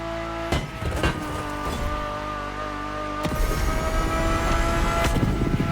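Car engine heard from inside the cabin in The Crew Motorfest, a steady droning tone with a few sharp knocks or gear-shift thumps, then a louder, brighter surge partway through, close and without talk.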